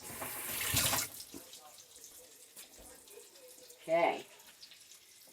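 A kitchen tap runs in short bursts while raw chicken is rinsed, with a longer gush of water first and a second brief splash later, a voice speaking quietly in between.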